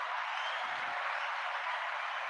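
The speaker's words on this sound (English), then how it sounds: "Do a round of applause for that." A round of applause from a small group, heard as a soft, steady wash of clapping at a fairly low level, distant and continuous without clear individual claps.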